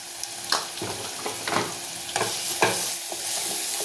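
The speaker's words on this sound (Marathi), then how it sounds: "हे बघा, आणि हे सर्व असं व्यवस्थित परतून घ्यायचं" Ground spices with turmeric, coriander powder and chili are stirred and fried in a masala paste for chana masala, giving a steady soft sizzle with scraping strokes of a spoon in the pan, close and quiet.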